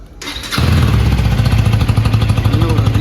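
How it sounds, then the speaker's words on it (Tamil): A 2024 Husqvarna Vitpilen 250 motorcycle engine cranks and fires up, then settles into a loud, close, throbbing idle with a steady rhythmic pulse. "நான் இன்ஜினை வந்து நான் ஸ்டார்ட் பண்ணி காட்டுறேன்"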